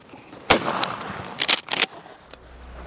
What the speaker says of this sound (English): Shoot him again, Anthony. Shoot him again.